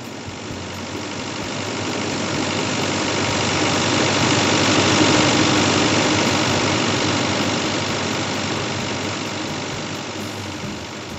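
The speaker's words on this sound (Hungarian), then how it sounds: "amíg csak üresen megy a morzsoló, kicsivel több mint 4 amper fogyaszt" An electric corn sheller runs empty with no corn fed in, giving a steady, loud mechanical hum and whir that swells gently and eases off again, with no talk.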